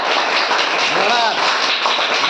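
Audience applause at a school welcoming ceremony: dense, continuous hand clapping at steady loudness for the whole stretch, with a voice briefly audible within it.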